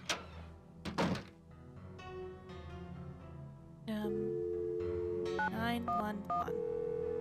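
Telephone dialing 911 in a Nancy Drew video game: a handset clunks and rattles, then a dial tone, followed by a quick run of distinct touch-tone beeps, clear and close.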